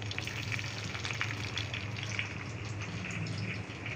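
Curry leaves and green chillies fry in a pan for ghee paneer carrot fried rice, giving a steady, close, dense sizzle that holds evenly throughout with no talk.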